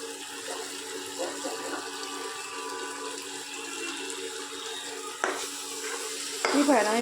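Spices and paste being stirred into frying fish in a pan, a soft continuous sizzle with scraping stir strokes, fairly quiet, with a brief clatter near the end.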